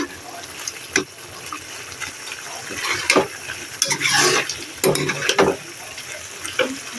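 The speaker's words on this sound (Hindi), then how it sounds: "टमाटर के छिलके हटाने के बाद मैंने इसे भूनना स्टार्ट कर दिया" Chicken karahi with mashed tomatoes frying in a pan, with a soft sizzle under intermittent scraping and clattering stirring strokes, some loud and close, spread irregularly through the clip.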